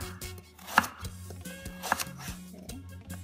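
A knife finely slices cucumber on a board, giving rapid, even chopping taps close by, with two louder knocks standing out among the quick strokes; nobody talks.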